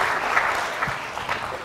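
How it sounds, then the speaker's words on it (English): An audience applauds at a university science lecture with steady, dense clapping that stays fairly loud for the whole stretch, with no talking over it. "Give them a clap."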